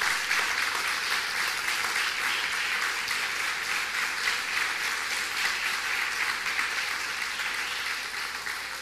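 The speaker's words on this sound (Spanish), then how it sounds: "dele fuerte el aplauso al Señor" Congregation in a Spanish-language church service giving loud applause to the Lord, dense sustained clapping that holds steady for about nine seconds and eases slightly at the end.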